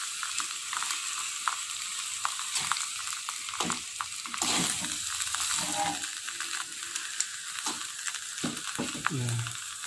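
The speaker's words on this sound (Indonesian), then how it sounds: "Oke, kita aduk rata." Tongs stir and toss food in a frying pan, giving a steady sizzle of frying with scattered metallic clicks and scraping, close and continuous with no talk.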